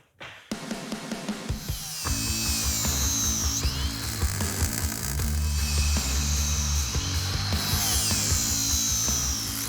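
A handheld power grinder shaping the contour of a metal frame on a 1957 Glass Craft car, rising from short bursts into a loud continuous whine with rough scraping and rumble, close up, no talk.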